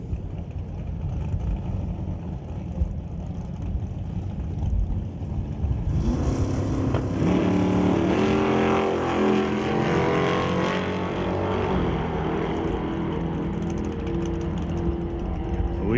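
Super Pro drag race cars launch off the line at the track, engines rising into a loud, droning roar as they accelerate away side by side, following a quieter idling rumble.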